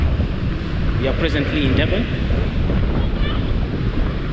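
Strong wind buffets the microphone on a Durban beach in unfavorable weather, with ocean surf churning underneath, while someone talks over the blustery roar.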